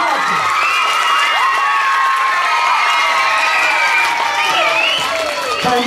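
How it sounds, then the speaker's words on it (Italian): Primary schoolchildren at an Aladdin school show clap and cheer together, loud and close, with shrill shouts and whoops rising over dense applause throughout. "Proviamo a fare un applauso?"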